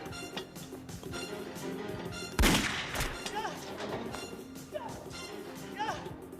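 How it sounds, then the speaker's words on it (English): Gunfire from the 1994 action film Felony: a sharp loud burst of shots midway with scattered smaller bangs around it, set against a busy soundtrack with voices and movement. "And the two dudes just start shooting at him"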